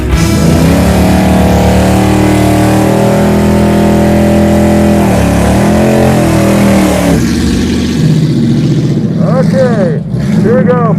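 A Chevelle crew cab drag car on nitrous revs hard through a loud, sustained burnout, engine droning steadily and shifting pitch, then drops to a rougher idle with sharp blips near the end.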